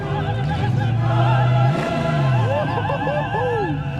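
A 4.6 engine with a 4-barrel carburetor in a 1,900-pound classic car revving up close, with steady idle rising into strong throttle blips and falling back, loud and unbroken.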